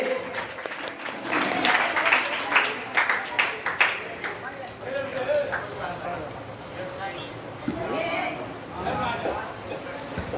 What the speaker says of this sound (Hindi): सभी लोग जोरदार ताली से स्वागत करेंगे।